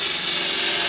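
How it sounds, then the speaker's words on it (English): A hole saw cuts through a plastic bucket with a steady, close, rasping whir that holds an even level throughout the short moment, with no voices. "it's just plastic, so it should drill out very, very easily"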